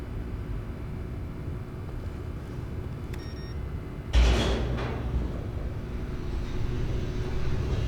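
A door in The Stanley Parable game opens with a sudden heavy thud and a rushing whoosh that fades slowly over steady low ambient hum.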